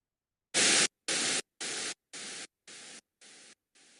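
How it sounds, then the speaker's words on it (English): Bursts of broadband hiss like NICU incubator noise repeat seven times in even half-second pulses, each step quieter than the last, fading from loud to faint with silence between. "this is a reduction of broadband noise. It sounds like that."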